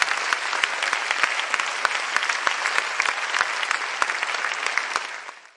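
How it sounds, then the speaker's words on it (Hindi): Steady, dense applause from a seated audience at a Hindi poetry gathering, continuous and fairly loud with sharp individual claps standing out, fading at the very end. "बहुत स्वागत करता हूं जोरदार तालियों से, आप सभी की तालियों के बीच"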